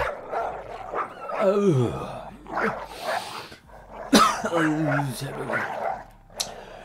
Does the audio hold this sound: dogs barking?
yes